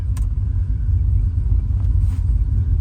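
A freshly rebuilt car engine idling as it warms up, a steady low rumble close by with no revving.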